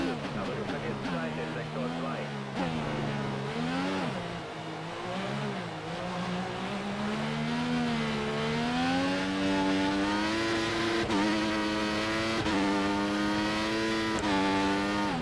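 A Formula 1 car in F1 2014 practice in Canada, its engine droning loud and steady throughout, pitch rising and falling with each gear change and stretch of acceleration.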